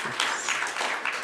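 A church audience applauds, a brief dense patter of many hands clapping at moderate distance.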